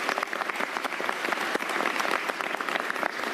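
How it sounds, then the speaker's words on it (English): An audience at a mayoral press conference for a Sandy recovery resource fair gives a round of applause, a dense, steady burst of clapping heard close and continuing throughout. "Let's give him a round of applause."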